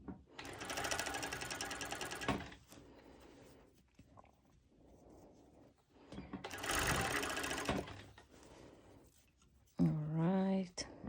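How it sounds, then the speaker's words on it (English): Cover stitch sewing machine top stitching a cut-out cropped top, running in two loud bursts of rapid stitching separated by quieter handling, with a brief tonal sound at the end. "I'm using my cover stitch for almost all the top stitching."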